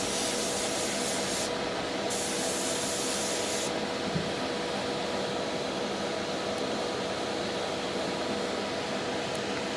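An airbrush sprays highlight paint onto a miniature with a continuous airy hiss, steady and close throughout, briefly shifting in tone for a couple of seconds early on.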